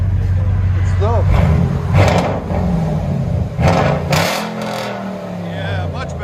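A 2012 Ford Raptor SVT with a 6.2L V8 and true dual Flowmaster Super 10 exhaust revs in a couple of sharp bursts over a deep rumbling idle, loud and close, while people talk over it.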